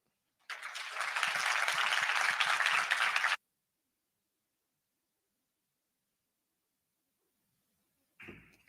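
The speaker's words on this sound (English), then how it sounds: "Let's have another big round of applause for all of our presenters" Audience applause after a presentation at a women's pitch-competition event, a dense burst of clapping lasting about three seconds that cuts off abruptly into silence, followed by a brief noise near the end.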